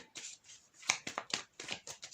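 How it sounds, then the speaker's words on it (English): Quiet riffling and slapping of tarot cards being shuffled by hand, a quick series of soft snaps and rustles. "One more shuffle."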